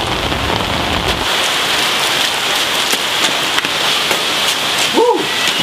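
Steady rain pours down outdoors, a dense, even hiss lasting throughout with no pauses, and a brief faint chirp-like call rising near the end.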